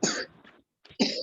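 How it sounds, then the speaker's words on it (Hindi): A child coughs in a Hindi classroom, two harsh close coughs separated by a short pause, loud against an otherwise quiet room. "किसे खांसी आ रही बेटा?"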